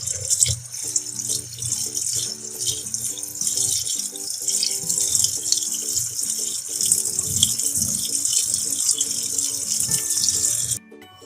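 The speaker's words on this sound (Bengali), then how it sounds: "তো পাস্তাগুলো ছেঁকে নিয়ে এবং ধুয়ে নেওয়া হয়ে গেছে।" Cold tap water runs steadily over boiled pasta and potatoes in a sink, splashing with faint clattering of the container, until the flow cuts off near the end, with no talking.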